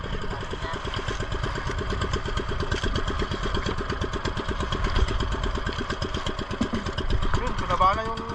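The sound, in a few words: fishing boat motor running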